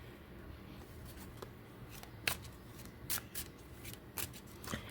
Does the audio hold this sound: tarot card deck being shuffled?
yes